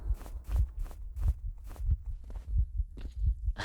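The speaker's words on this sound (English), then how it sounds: "I don't like the heartbeat noise." A heartbeat sound effect from a modded video game pulses in a steady repeating thump, loud and close, running continuously with faint game ambience around it.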